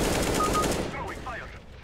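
Rapid automatic gunfire from a match of the video game CS:GO on the Dust 2 map, a loud continuous burst that fades into faint game sounds.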